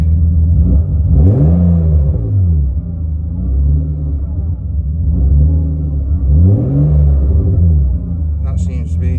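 A BMW E36 drift car engine rises and falls through several deep revs while idling up to temperature, loud and close, with a voice speaking faintly at times.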